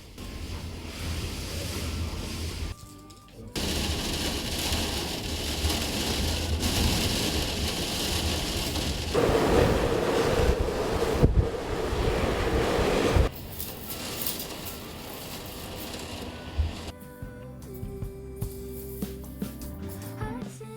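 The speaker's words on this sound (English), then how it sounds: "The rainstorm very much has arrived now. It is so windy and it's like sleet." Strong wind drives a rainstorm with sleet in Svalbard in October, roaring and buffeting continuously with gusty surges, broken by a few abrupt cuts, and no voices.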